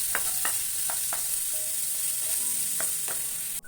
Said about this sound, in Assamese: ফ্ৰাই হওক চপ কৰা পিঁয়াজখিনি।